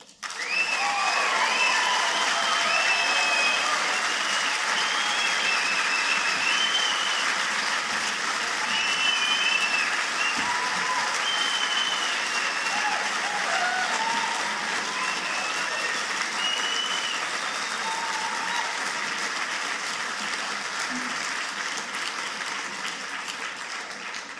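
Sustained, loud applause from a large debate audience, steady clapping that fills the room for over twenty seconds and slowly tapers near the end.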